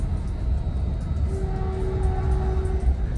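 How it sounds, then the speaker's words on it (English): A Caltrain passenger train horn sounds a steady tone for about one and a half seconds, mid-distance, over the loud rumble of the moving train. "Here you can hear the horn of 302, car 302."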